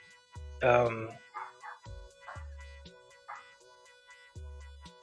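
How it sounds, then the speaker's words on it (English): Dogs in the game Everquest 2 bark and yip in short separate bursts with whimpering tones, fairly close, while game sounds play underneath. "Why are the dogs barking?"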